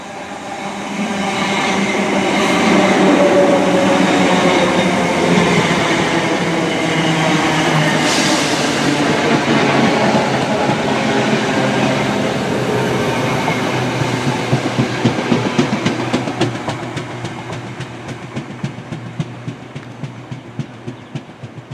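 Diverted Avanti West Coast passenger train running through Northampton station, a loud sustained rumble with rhythmic wheel clatter building toward the end as carriages pass close by.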